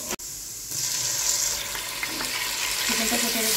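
Garlic fries in oil in a pan and is stirred: a constant close hiss of frying with intermittent scraping and clinks from the spoon, and no voices.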